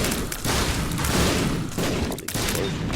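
Explosions in the video game The Binding of Isaac come as a rapid, loud barrage of booming blasts, with a couple of brief gaps between bursts.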